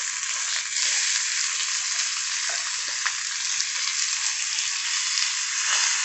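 Garlic and onion sautéing in hot oil after urad dal, a continuous bright close sizzle holding steady throughout without talk.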